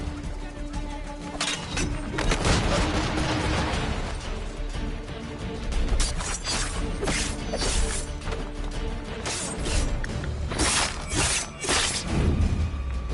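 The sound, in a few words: cannon firing in Assassin's Creed 3, from a video game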